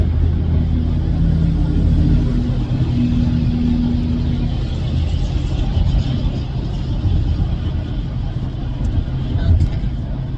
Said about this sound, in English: Once some of these trucks pass me,